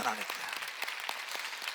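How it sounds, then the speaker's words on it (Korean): Congregation at a Sunday church service clapping for God as the pastor comes forward, a steady broadband patter of many hands with a brief voice at the very start. "하나님께 박수"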